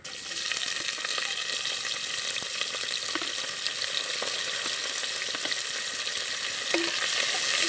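Onions stirred as they fry in ghee with cinnamon and whole spices for mushroom biryani, a dense continuous sizzle with scattered spatula scrapes and clicks, no voices.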